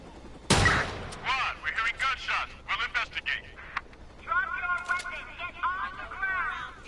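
Video game gunfire through the wall of a double-layered building: one sharp loud shot followed by bursts of rapid firing and electronic game sounds, mixed with some voice-like chatter in the clip.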